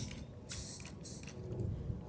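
A handheld sprayer mists herbicide onto poison oak leaves in a yard, two short hissing bursts close by and fairly faint, with quiet rustling between them.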